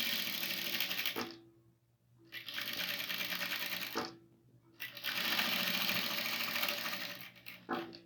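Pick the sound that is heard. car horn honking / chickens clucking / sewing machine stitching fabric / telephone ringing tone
sewing machine stitching fabric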